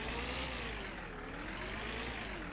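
A car engine in My Summer Car runs steadily at a low idle, a continuous even drone with a faint wavering pitch and no voices over it.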